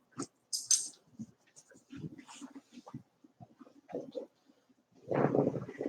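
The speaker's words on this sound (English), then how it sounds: "This is my dog, Brahma." A dog breathes and whimpers close up, with soft whines, snuffles and sniffs, then a heavier rush of panting breath at the end.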